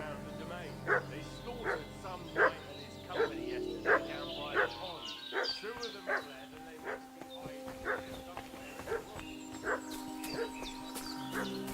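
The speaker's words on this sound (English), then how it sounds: "What's that dog making such a fuss about?" A dog in the video game Kingdom Come: Deliverance 2 barks repeatedly in short, evenly spaced yaps at moderate distance, continuing steadily over other game sounds with voices present.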